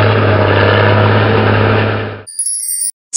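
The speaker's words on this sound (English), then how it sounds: "Bulldozer." A bulldozer engine rumbles in a loud, steady, low drone close by, then stops suddenly and gives way to a few bright electronic chime tones.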